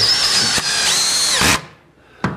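A power drill drives screws into a plywood carrier for crown molding work, two loud high-pitched whining bursts separated by a brief dip, then a short final spin after a pause.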